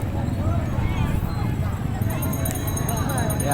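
Horses at a traditional horse fight in Lake Sebu, heard as dense hoof clip-clop and stomping beneath a loud crowd roar and overlapping voices.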